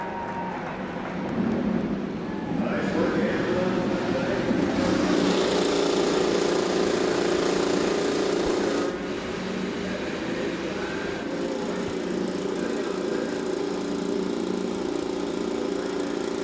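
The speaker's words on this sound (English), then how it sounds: "Race engines are running at Indianapolis in May." IndyCar race engines run at Indianapolis during May practice, a steady broad mechanical roar with shifting pitch throughout, heard from a distance with no voices.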